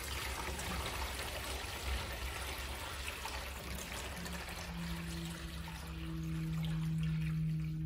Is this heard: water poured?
yes